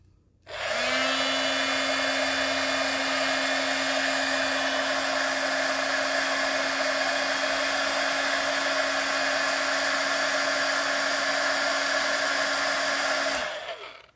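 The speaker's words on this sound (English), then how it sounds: "I'm going to bring in my heat gun, so it's going to be a little bit noisy" A heat gun used for card crafting switches on and blows with a loud, steady whining hiss for about thirteen seconds, then cuts off abruptly, with no talking.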